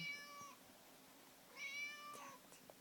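Two clear meows from a cat, separated by a short pause, the second slightly longer, heard alone in a quiet room.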